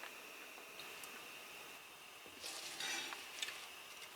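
Cashews drop into a hot pan while cooking in a camper van. A faint background hiss swells into a brief, brighter sizzle partway through, then quietens again.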